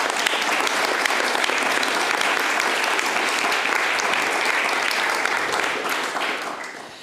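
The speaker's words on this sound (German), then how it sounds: "dafür können wir auch eigentlich nochmal klatschen" Audience applause at a literary event honouring a Bavarian book prize winner, a steady, dense clapping from a sizable crowd that holds evenly for several seconds before tapering off at the end.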